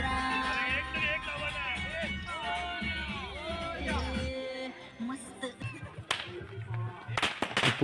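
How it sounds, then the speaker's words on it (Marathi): Strings of firecrackers crackle in rapid bursts during a village Ganesh immersion procession, breaking out sharply in the second half after music and voices, with the crowd still audible. "पोरं बघा हातातून फटाक्याच्या माळा लावून टाकायला लागलेत"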